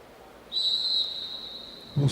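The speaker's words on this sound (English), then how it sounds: "Whistle sounds, Liani Vandenberg leads them away." A starter's whistle at a track cycling championship start in Brisbane sounds a single sustained, piercing shrill blast that fades slowly, followed by a brief low thump.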